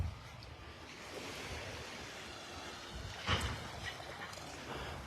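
Ocean surf rolls steadily onto Vanderbilt Beach in North Naples, Florida, a faint, continuous wash of breaking waves mixed with wind noise on the microphone, with one slightly louder surge of water partway through.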